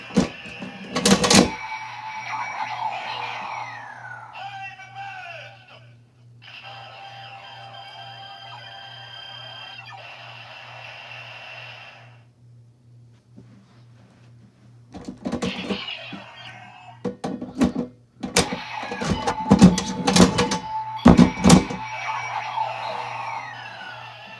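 Kamen Rider Zero-One Zi-O transformation belt toy sound effects: chiming tones, whirring buzzes and beeps in bursts, with a steady low hum and a quiet stretch midway, ending in busy clattering electronic noise.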